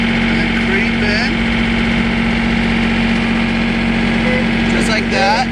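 A John Deere 3520 tractor engine idles steadily and loudly close by, a constant deep mechanical drone with faint whistling tones from the backhoe work, running without pause and without talk.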